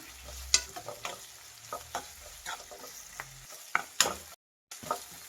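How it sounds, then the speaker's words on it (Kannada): Ginger garlic paste frying in a pan over a medium flame for a capsicum curry, with a low, soft sizzle under sharp spatula scrapes and clicks that come in irregular bursts, close by and with no voices. "ಶುಂಠಿ ಬೆಳ್ಳುಳ್ಳಿ ಪೇಸ್ಟ್ ಹಸಿ ವಾಸನೆ ಹೋಗೋವರೆಗೂ ಮೀಡಿಯಮ್ ಫ್ಲೇಮಲ್ಲೇ ಫ್ರೈ ಮಾಡಬೇಕು."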